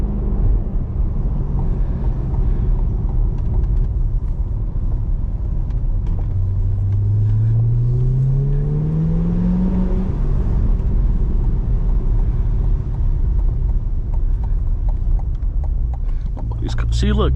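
Late-night drive in a 500 hp Chevrolet C8 Corvette with the top down: a steady, loud engine and road rumble throughout, with a rising rev sweep in the middle, and a voice talking over it.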